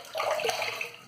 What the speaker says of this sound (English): Let me rinse up.